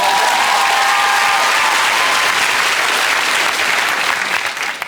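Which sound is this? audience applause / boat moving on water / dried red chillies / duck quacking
audience applause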